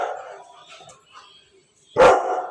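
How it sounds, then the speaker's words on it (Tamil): A single sharp, loud dog bark bursts out after a stretch of quieter murmuring in the background, close by and abrupt. "யாரையும் பார்த்துட்டு குலைக்குது வெளியில்"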